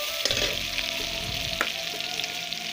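Onions frying in a pan for an Assamese ash gourd curry, a steady close sizzle with soft stirring scrapes and a couple of sharper pops, no voices.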